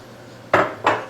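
A 6-quart metal pot holding lemon juice is handled in a kitchen, giving two sharp, close metallic clanks about a third of a second apart.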